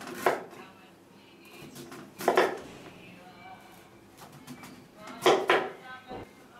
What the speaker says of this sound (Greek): Τώρα κόβουμε τη σελινόριζά μας. Πολύ ωραία. Θα την κόψουμε σε χοντρά κομματάκια.